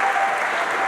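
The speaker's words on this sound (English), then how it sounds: "The noise being made here tonight for what would be a relatively small crowd is absolutely amazing" Crowd at a freestyle trampoline world championship applauding loudly and steadily, a dense, continuous wash of clapping throughout.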